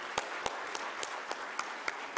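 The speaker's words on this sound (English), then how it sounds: "Please welcome yourselves with a round of applause with me." Faint, sparse clapping from an audience at the opening ceremony of ICT Expo Ethiopia 2017, a handful of distinct claps spaced out over a steady background hiss.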